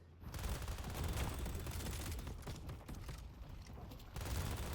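Rapid gunfire from the video game Deadlock rattles in sustained bursts, dense and loud, with short gaps between volleys and no speech over it.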